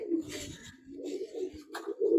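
Soft, low pigeon coos repeat throughout, close by, with a few brief wing flutters and rustles breaking in between.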